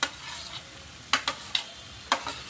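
Chopped onions frying for tadka, a steady sizzle with a few sharp spatula scrapes and taps against the pan, close and unaccompanied by talk.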